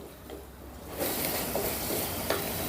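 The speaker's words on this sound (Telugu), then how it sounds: "ఈ పుదీనాలో పచ్చివాసన పోయేంత వరకు ఒక రెండు నిమిషాలు స్టవ్ని లో ఫ్లేమ్లో పెట్టుకొని ఫ్రై చేసుకుందాం" Mint leaves frying over a low flame with ghee and oil for mint rice, a soft sizzle that grows louder partway through, with a few light stirring scrapes.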